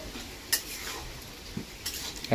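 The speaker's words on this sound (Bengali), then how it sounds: "এবার এটাকে পুরো মিশিয়ে দেবো" Potol (pointed gourd) and shrimp curry stirred in a pan, with a few distinct scraping clinks of a utensil against the metal, spaced irregularly and near, the last one louder, over a quiet background.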